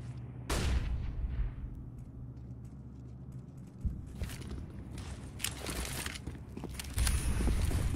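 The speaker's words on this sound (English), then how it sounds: "There you go, the smoke grenades." Smoke grenades pop and hiss in a Counter-Strike match at the PGL Major Krakow 2017, Flipsid3 against Immortals, with a burst near the start and a dense wash of game noise and further bursts through the rest.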